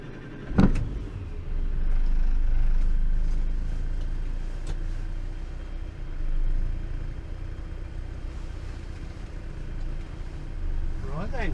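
A 1962 Morris Minor car driving, its steady engine rumble and road noise running throughout at close range, with a brief thump near the start and light rattles.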